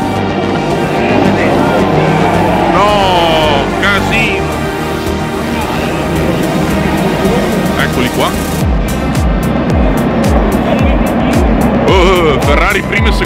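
WEC race cars at the Spa-Francorchamps endurance race sweep past in a loud engine roar, with several sharper passes later on, while voices talk over the noise throughout.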